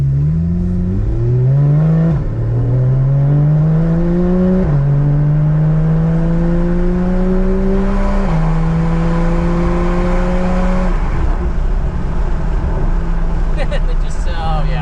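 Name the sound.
Porsche 991 engine accelerating hard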